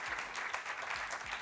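Steady applause from an audience at an official ceremony, dense even clapping filling the space, with no voices over it.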